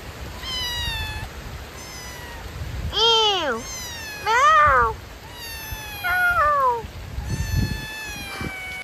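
Several kittens meow in a series of drawn-out, high-pitched cries, some rising and falling, close by with faint background noise between them.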